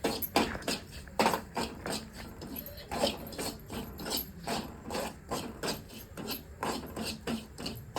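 Semolina roasting in ghee for fried modak, stirred steadily with a spoon in a pan. It makes a soft, continuous scraping rasp with regular rhythmic strokes, close by and moderately loud, with no talking.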